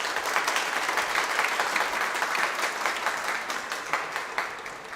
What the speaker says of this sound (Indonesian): Kita beri tepuk tangan atas suasana yang baru.